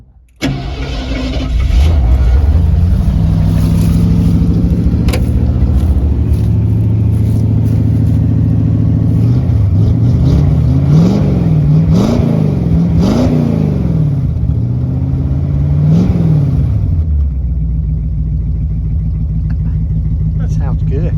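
A rare GT Ford muscle car engine cranks and starts, then settles into a loud, close rumbling idle broken by several sharp throttle blips and revs; people speak nearby over the engine.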